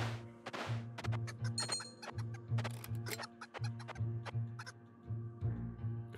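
A chicken in the Vagante video game gives a run of quiet, repeated clucks with a regular, looping rhythm and no talking over it.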